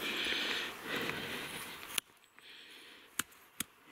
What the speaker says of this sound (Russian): это звук камня.